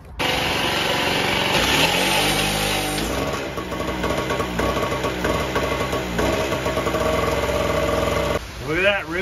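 Small generator engine being started with a drill, a dense mechanical whir and clatter that settles into a steady running drone, loud and close throughout.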